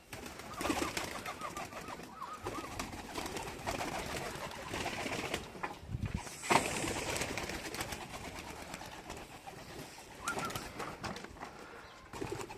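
Adana and homing pigeons coo continuously inside a coop in Adana, Turkey, on a hot day, with layered, overlapping calls and a brief flutter of wings partway through.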